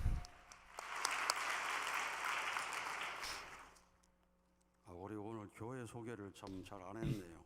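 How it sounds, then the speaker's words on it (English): A church congregation applauds, steady broad clapping for nearly four seconds that fades out, then a voice speaks over a quiet room. "let us offer her a great round of applause so she can witness many people"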